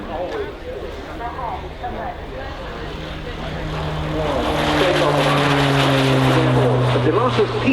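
Propeller-driven Spitfire PR11 and Griffon-engined PR19 photographic reconnaissance fighters fly at an airshow, their engine drone swelling louder and nearer over several seconds, with a commentator's voice talking over it.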